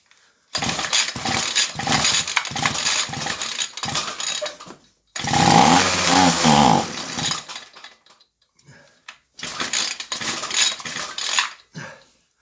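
Ryobi weed eater, a small two-stroke string trimmer sprayed with carb cleaner, is pulled and briefly sputters in three loud bursts separated by short pauses, with rasping starter and engine noise up close.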